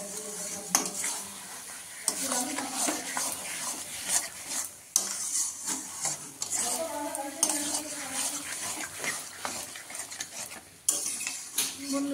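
Coriander chicken is stir-fried in a pan, with a constant sizzle under repeated scraping and clattering of a spatula against the metal, close and busy throughout.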